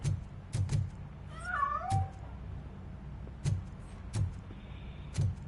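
A cat meows a few times in the video game RoboCop: Rogue City, a short wavering cry in the middle, over steady low background noise with soft thumping footsteps.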